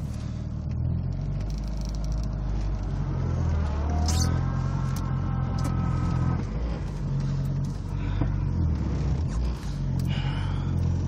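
A 1989 VW Cabriolet with a 5-speed gearbox being driven, its engine humming steadily with a low drone. Revs rise audibly partway through, along with faint road and cabin rustle.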